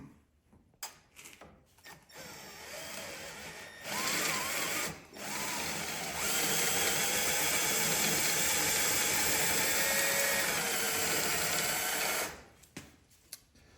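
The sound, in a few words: drilling out a rivet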